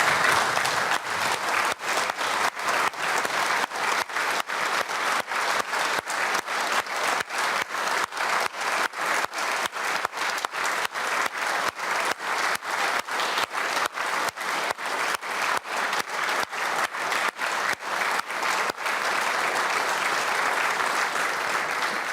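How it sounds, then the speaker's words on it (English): A standing ovation in the Dáil chamber, dense sustained clapping from many hands at an even, vigorous pace for about twenty seconds, loud and close with no voices over it. "Can I ask everybody here to stand and applaud Natasha?"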